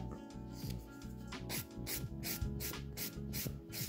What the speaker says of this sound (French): mettre ma lime sur la couleur, et de limer tranquillement